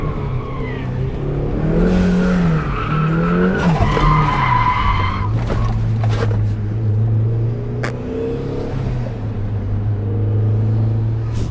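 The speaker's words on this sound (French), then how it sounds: "tu viens de vivre avec moi mon premier tour de drift officiel" A turbocharged Mazda MX-5 drifts around the Paul Ricard race circuit, its tires squealing and skidding steadily under a loud, droning engine that rises and falls through the slide, heard close from inside the car.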